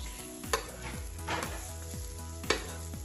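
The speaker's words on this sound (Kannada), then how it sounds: "ಸ್ವಲ್ಪ ಎಣ್ಣೆಯಲ್ಲಿ ಈಗ ಇದನ್ನು ಇನ್ನೊಂದ್ಸರಿ ಕಾಯಿಸುವ." A sweet corn cutlet fries in a little oil in a pan, a steady soft sizzle with a few light scrapes and taps, recorded close and free of talk.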